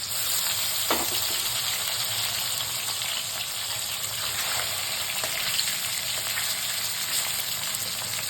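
Bhola fish coated in salt, turmeric and mustard oil fries in hot mustard oil in a kadai, giving a loud, close, continuous hiss and crackle that stays even throughout, with no talking.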